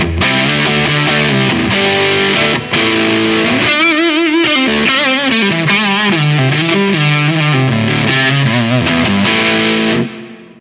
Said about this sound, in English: Even in the neck position, it doesn't get too muddy. So you can get those kind of thick power chord riffs.